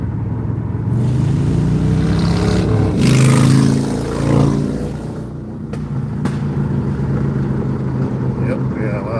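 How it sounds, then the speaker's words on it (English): A motorcycle revs and roars past a vehicle on an open road, swelling loud then fading, heard over a car's engine drone while someone talks. "You can go around, Mr. Motorcycle."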